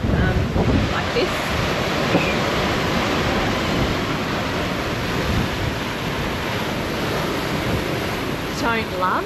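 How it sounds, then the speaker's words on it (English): Rough ocean waves surge and wash continuously around a heeling sailboat at sea between the British Virgin Islands and Panama, a loud, dense roar with wind noise buffeting the microphone. "I haven't seen waves like this on this boat yet"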